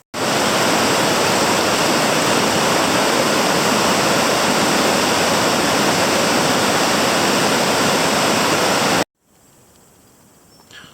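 Fast-flowing, high river water running hard roars loud and steady as a dense, unbroken rush close by. It cuts off abruptly near the end, leaving faint background ambience.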